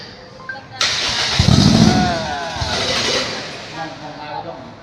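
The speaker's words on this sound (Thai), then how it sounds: "เราลองสตาร์ทด้วยเสียงนะครับ สตาร์ทเครื่อง" A car engine started remotely by phone cranks and catches, bursting into a loud, rough idle that settles into a steady running rumble.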